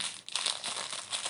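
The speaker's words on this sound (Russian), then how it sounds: "Берем наш реторт-пакет, распаковываем" A plastic retort pouch from a Ukrainian military ration being opened, with close, continuous crinkling and rustling of the packaging over about a second and a half and a short dip early on.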